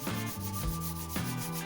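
Steady, close-up rubbing strokes of sandpaper on an early-1990s mountain bike's metal stem, a continuous scratchy hiss with a few rhythmic pushes, no voices.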